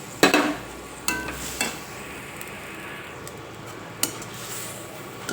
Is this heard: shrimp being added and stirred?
yes